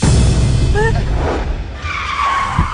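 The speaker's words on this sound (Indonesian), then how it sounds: "saya nggak sengaja ngerem mendadak" A car brakes hard and its tires skid with a loud, close screech over engine rumble, fading briefly before a second squeal.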